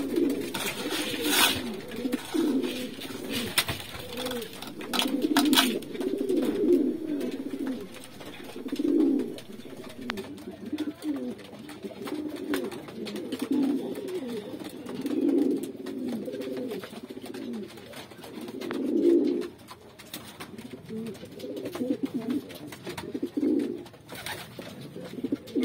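Racing pigeons coo at a loft in repeated rolling bursts, several birds overlapping close by, with scattered sharp clicks and rustles between the calls and no talking.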